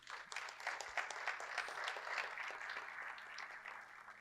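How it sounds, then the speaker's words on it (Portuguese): Church congregation clapping during a family worship service, a steady dense patter of many hands that holds at an even, moderate level from start to finish with no voices over it. "Você pode dar uma salva de palmas em nome de Jesus?"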